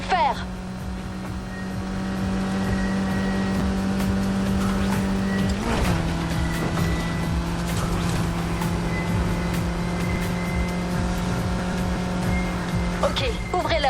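Cars race through a city in the Need for Speed Heat video game, a loud, steady engine drone with shifting revs and a tire squeal, while in-game characters talk over it.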